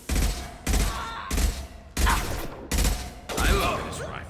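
Rifle fire in the video game Mass Effect 2 rips out in six sharp, loud bursts of rapid shots, each separated by a short pause, with faint voices in the gaps.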